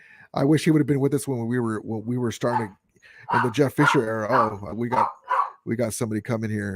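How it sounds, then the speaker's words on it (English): A dog barks intermittently in the background of an indoor sports-talk stream, partly masked by someone speaking almost continuously over it. "Sorry for the barking."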